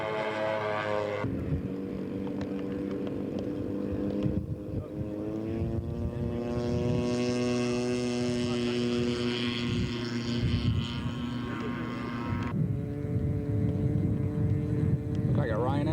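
A scale model aircraft makes a flyby at an aircraft show, its buzzing engine drone swelling and then easing off, with an announcer's voice heard over the noise.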